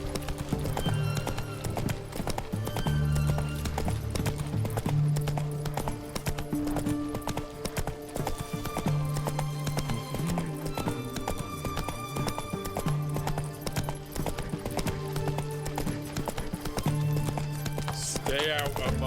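Geralt's horse Roach gallops in The Witcher 3, a steady run of loud clip-clop hoofbeats that carries through the whole stretch over game music, with a brief whinny near the end and talk over it.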